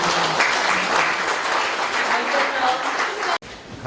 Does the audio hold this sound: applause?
yes